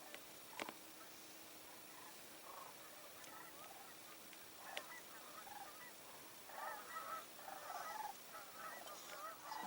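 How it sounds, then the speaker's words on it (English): Distant Canada geese honk in scattered bursts, growing into a livelier cluster of calls toward the end over a quiet outdoor background. "Got a section down here of Canada geese."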